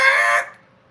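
A chicken clucks in a single loud, bright burst that cuts off abruptly after less than half a second, leaving near silence.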